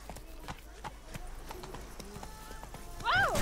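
A horse gallops in The Witcher 3: steady, rhythmic hoofbeats with a sharp neigh near the end, heard over game ambience with some voice in the background.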